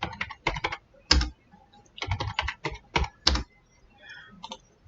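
Computer keyboard keys tapped in several quick bursts while a password is entered, close and crisp with short pauses between groups of keystrokes.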